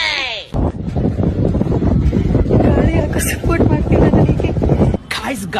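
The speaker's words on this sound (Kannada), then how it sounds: "ಗಾಳಿ ಕೋಪರೇಟೇ ಮಾಡ್ತಾ ಇಲ್ಲ" Strong outdoor wind buffets the microphone in loud low rumbling gusts, while a person talks over it almost throughout.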